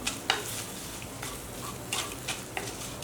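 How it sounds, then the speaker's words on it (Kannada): Garlic and spices sizzle gently in a pan while being sautéed for pepper rasam, with soft frying hiss and a few intermittent stirring scrapes, close and fairly quiet. "ಸ್ವಲ್ಪ ಬಾಡಿಸ್ಕೊಳ್ಳೋಣ ಬೆಳ್ಳುಳ್ಳಿ ಹಾಕಿರೋದ್ರಿಂದ ಸ್ವಲ್ಪ ಹಸಿ ವಾಸನೆ ಹೋಗಲಿ"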